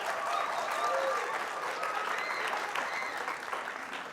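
A Q&A audience applauds to vote on a Broadway musical ending: a dense, sustained wash of clapping and crowd noise, fairly soft and even, with faint voices underneath.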